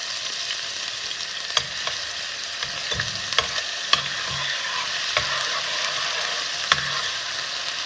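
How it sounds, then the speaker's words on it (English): Onions and garlic frying in warmed olive oil in a pot for lasagna sauce, a continuous bright sizzle broken by a few sharp spoon taps and stirring strokes. "we want to add our onions and our garlic"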